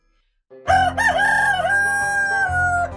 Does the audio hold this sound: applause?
no